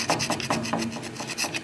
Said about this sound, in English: we're just going to scrape some of the carbon off of this.